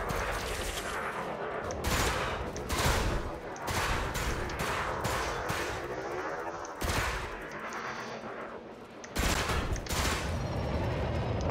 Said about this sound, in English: my gimbal lasers are tracking him. And as you can see, we made 1400 credits with shooting down